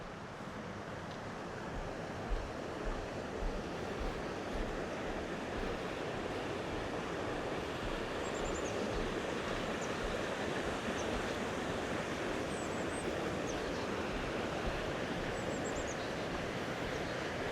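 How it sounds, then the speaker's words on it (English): River flowing through a North Georgia forest, a continuous broad rushing wash of water, steady and fairly loud throughout, with no talk. "I'm gonna walk down here, check this river out"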